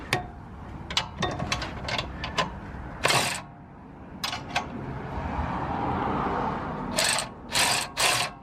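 An electric ratchet drives a nut home on a Toyota RAV4 Prime rear spring install, giving short buzzing bursts in an irregular stop-start pattern, close and fairly loud, with quieter clinks and rustling between runs.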